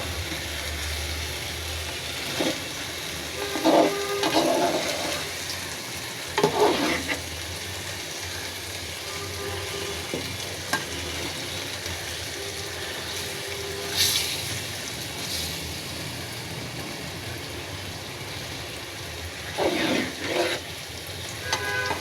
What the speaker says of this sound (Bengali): নাড়াচাড়া করে দিব।